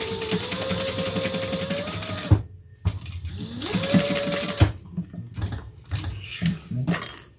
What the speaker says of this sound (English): Let's just baste that down so it stays nice and straight.